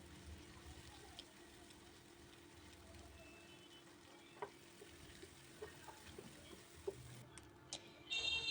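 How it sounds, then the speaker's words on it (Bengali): Onions frying in a pan until browned give a faint, steady sizzle running throughout, quiet and close, with a few small clicks toward the end and no speech. "এর ভিতরে আমি পেঁয়াজগুলো একটু লাল কালার, বাদামি কালার করে ভেজে নেব।"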